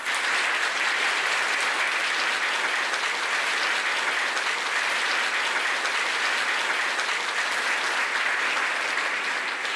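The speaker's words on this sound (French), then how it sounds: "Veuillez applaudir chaleureusement le récipiendaire de la médaille du gouverneur général pour l'année" Warm, sustained applause from a large gala audience for a Governor General's medal recipient at a school excellence ceremony, a dense, even wash of clapping that holds steady throughout.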